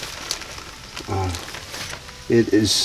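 Butter bubbles and spits around pieces of boneless pheasant frying in a pan. A soft, continuous sizzle sits under short bursts of nearby voice.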